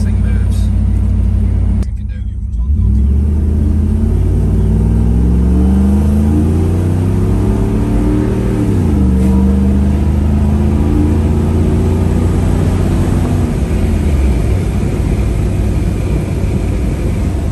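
A Toyota 80 series Land Cruiser with a swapped 2UZ V8 accelerates on the road, its engine revving and rising steadily in pitch, dropping briefly at a gear change and then climbing again, loud and close from inside the cabin.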